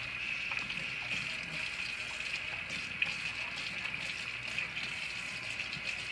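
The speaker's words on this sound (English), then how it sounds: "First you're going to turn on the sink, get your hands nice and wet" Water runs from a sink tap in a steady continuous gush while hands are washed, a close, even stream with no talk.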